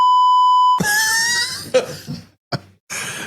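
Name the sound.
censor beep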